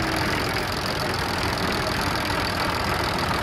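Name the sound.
vintage tractors driving off in a road run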